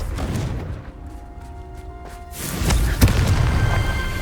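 Confringo fire-blast spells cast in the Hogwarts Legacy video game, heard as a deep booming burst that swells into a loud, sustained rumble with a sharp crack near the end.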